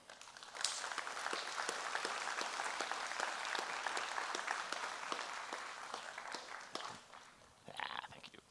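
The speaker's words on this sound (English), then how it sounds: "Let's give him one more round of applause, shall we?" Audience applause after a talk, a quiet crowd of clapping hands with sharp individual claps standing out, steady for several seconds before thinning and tapering off near the end.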